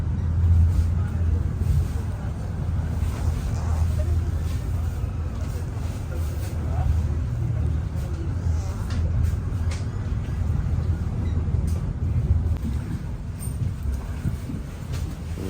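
A boat travels from Maafushi Island toward Male in the Maldives, its engine a steady low rumble alongside wind buffeting the microphone. The noise holds constant throughout.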